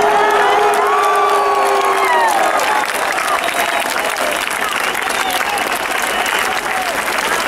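A large outdoor crowd at a Lega political rally in Milan applauds and cheers loudly, with whoops and shouts over steady clapping; a voice carries over the noise at the start.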